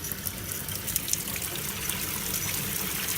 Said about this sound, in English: Going to fill up the sink or the laundry tub with some nice hot